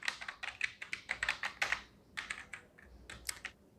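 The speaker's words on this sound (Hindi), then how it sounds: "तो हम ईमेल आईडी टाइप कर रहे हैं।" Keys clatter on a computer keyboard as an email address is typed, a quick run of close, distinct keystrokes with a short pause partway through.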